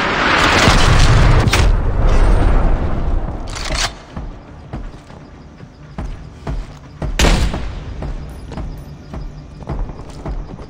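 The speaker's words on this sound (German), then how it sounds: "Artillerie entdeckt." Heavy artillery blasts in the multiplayer shooter Call of Duty: Black Ops Cold War, a loud booming barrage up front giving way to scattered thuds and sharper impacts, with another strong hit near the end.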